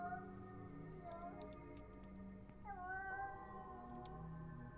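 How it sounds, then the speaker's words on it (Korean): A cat meows in a few drawn-out, wavering calls over a steady electronic hum and faint ticking, with no one speaking. "고양이 소리 같은데?"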